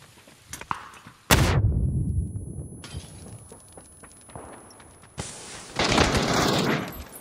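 Gunfire in the battle-royale game PUBG: one loud burst of shots, then a quieter stretch of scattered pops, then another sustained loud volley near the end.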